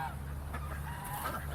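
Large geese honk at a heritage center grounds where feed is offered, several overlapping nasal calls at moderate distance over a steady outdoor background hum.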